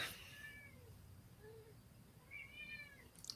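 A hungry cat meows indoors, several drawn-out, rising meows spaced apart over a low steady background hum, close to the listener, with no one talking.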